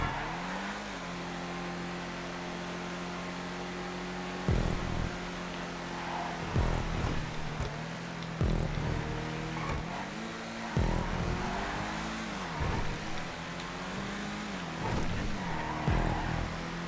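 Race cars in GTA 5 drive a community-verified custom track, engines holding steady revving tones that rise and fall through gear shifts, with sharp bumps and clatters breaking in every couple of seconds, loud and continuous with no talk.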